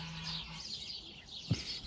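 Geese calling outdoors, a few honks and chirpy calls at a distance over a soft airy background, with one louder low honk near the end.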